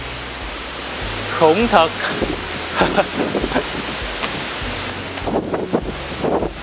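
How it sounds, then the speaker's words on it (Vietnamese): Strong wind roars across a long mountain stairway, a broad steady rushing that swells and gusts throughout, with a voice speaking over it. "Ôi trời ơi, gió ào ào luôn."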